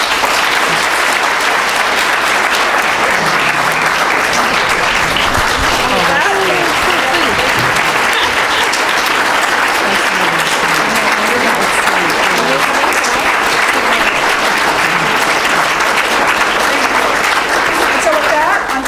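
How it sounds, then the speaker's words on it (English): An audience at the Distinguished Women Forum gives a panel a sustained, loud round of applause, dense clapping continuing evenly for the full stretch with crowd murmur and voices mixed in. "let's please give this panel one more round of applause"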